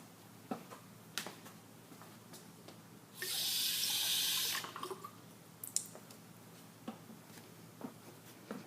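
Water tap running to add cold water in a lab setup, a steady hiss that lasts about a second and a half, set among quiet clinks and taps before and after.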